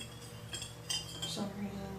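A metal spoon clinks and scrapes against small lip balm containers while they are being filled, a few quiet, close taps and rattles over a low hum.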